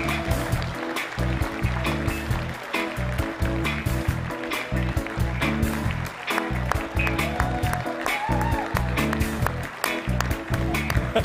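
A large audience gives a sustained round of applause to welcome two science quiz teams onto the stage, a loud, continuous wash of clapping with scattered louder claps and little talk on top.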